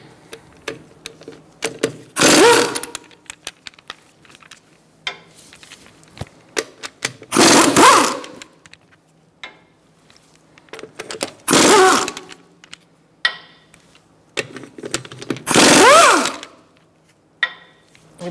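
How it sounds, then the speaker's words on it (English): A 17mm socket on an impact tool removes the wheel fasteners on a 2012-2019 Fiat 500, four loud buzzing bursts of about a second each at even intervals, separated by quieter clinks and handling noises. "Using a 17mm socket, we're going to remove our wheel fasteners."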